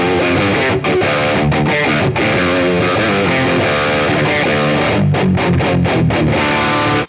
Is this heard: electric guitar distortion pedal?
yes